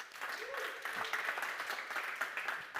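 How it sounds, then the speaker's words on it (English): A conference audience claps for a speaker being welcomed onto the centre stage, a moderate, steady patter of applause with a voice briefly heard over it. "Please join me on stage and give a warm round of applause"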